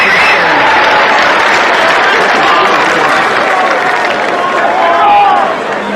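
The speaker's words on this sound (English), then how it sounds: "He hears the crowd cheering." A crowd cheering and applauding as a speaker comes up to the stage, a loud, steady roar of massed voices and clapping that continues without a break.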